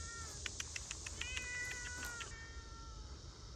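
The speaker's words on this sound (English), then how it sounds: "this cat has been following me all around this plot" A cat in a cemetery meows several times in quick succession, high and plaintive, close by in a quiet outdoor setting.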